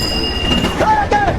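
A train rolls along rails with metallic wheel squeals and a faint rhythmic clatter, close and fairly loud in a short burst.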